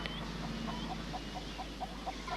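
Soft, repeated clucking from chickens pulses steadily over a constant low hum, somewhat distant and faint.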